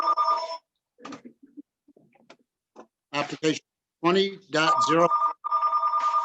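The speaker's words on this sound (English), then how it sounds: "Whoever's phone ringing, maybe?" A mobile phone rings in bursts during a planning and zoning commission meeting, its chirping ringtone repeating between and under a man's speech in the room.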